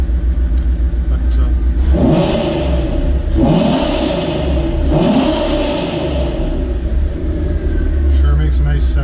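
A 2014 Ford Boss 302S engine revs in several loud rising and falling pulls, a deep mid-range rumble close by.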